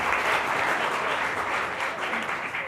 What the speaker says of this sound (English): So round of applause for all of you guys who came out.